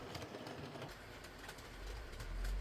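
A model train runs around an automated layout, a soft continuous rolling rumble with faint rhythmic clicks of wheels over track joints, heard alone at low level.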